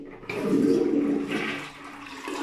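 A hotel bathroom toilet flushes in Baguio City, starting with a sudden rush of water that swirls and drains steadily for a couple of seconds, loud and close with no one talking.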